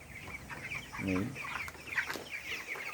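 Broiler chickens cluck and call inside a poultry shed, a dense close flock chatter with repeated short clucks and one louder drawn-out squawk, continuous throughout.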